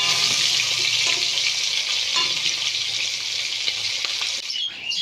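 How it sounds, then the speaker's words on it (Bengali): Hilsa fish pieces and two fish heads fry steadily in hot oil, a continuous loud crackling sizzle that runs without a break until it briefly quiets near the end. "এখানে দেখো আমি মাছগুলো ভেজে নিচ্ছি দুইটা মাছের মাথাও আছে"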